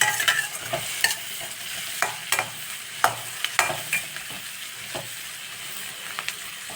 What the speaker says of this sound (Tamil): எனக்கு அந்த வெண்ணெயில் வந்து இந்த வெங்காயம் வதங்கிறது அவ்வளோ நல்லாயிருக்கு பார்க்குறதுக்கு